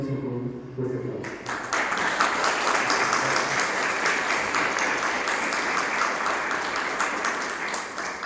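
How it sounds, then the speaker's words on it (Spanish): An audience at a church talk on evangelization breaks into loud, sustained applause to welcome a friar to the stage. The clapping starts about a second in and holds steady and dense to the end. "Le damos la bienvenida a Fray Nelson con un fuerte aplauso."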